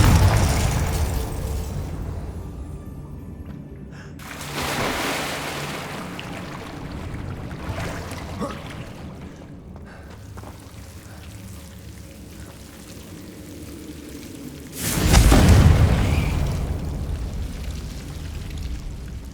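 In Hogwarts Legacy, a fiery Confringo spell explodes with a loud, broad blast midway through a stretch of rumbling, crackling spell effects, with no talk.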